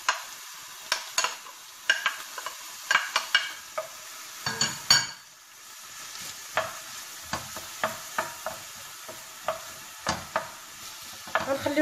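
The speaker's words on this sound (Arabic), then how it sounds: "درت هذه البصله هذه غادي تشحر شويه" Chopped onion frying in vegetable oil in a pan: a steady low sizzle under repeated sharp scraping and stirring strokes, close and clear, with no talking.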